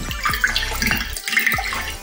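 Water pours and splashes into a container during a children's classroom experiment, a close, steady gurgling stream with a few brief surges and no talking.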